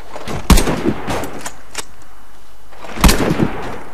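SIG sniper rifle shots in the Warface shooter game: two sharp, loud reports about two and a half seconds apart, each followed by brief mechanical clatter and handling noise.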